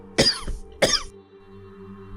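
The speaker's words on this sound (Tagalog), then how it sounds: "Mukhang ang lala ng ubo mo" Two harsh, forceful coughs from a man, one near the start and another about half a second later, close and loud, followed by a low steady background hum.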